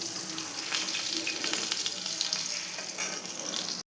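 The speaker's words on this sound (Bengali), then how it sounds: "আর এখানে পটল ভাজা হয়ে গেছে।" Pointed gourd (potol) fries in a pan with a dense, steady sizzle and crackle heard up close. The sound runs evenly, then cuts off abruptly at the end.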